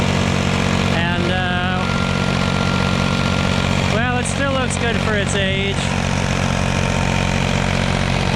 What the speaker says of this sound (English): So this is a tractor that I rebuilt in junior high with a lot of help from Dad.